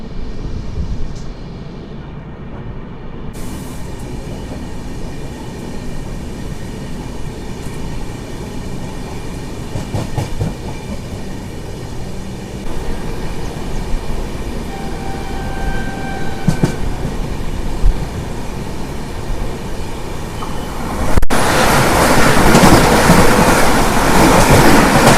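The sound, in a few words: Charminar SF Express train running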